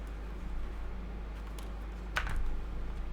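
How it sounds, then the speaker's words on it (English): Typing on an EPOMAKER GANSS GS87D Bluetooth mechanical keyboard with a plastic build, a steady close patter of key clacks over a low hum, with a brief louder flurry near the end. "What we got is a dang excellent keyboard here."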